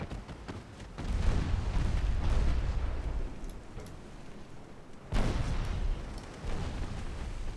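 Rocket launchers firing in a Japanese classic campaign war video game, heavy booming blasts with rumbling decay, one long roar followed by a second launch burst midway, loud and continuous with no talk.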